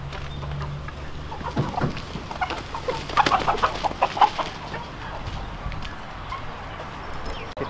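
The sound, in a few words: chickens clucking on a farm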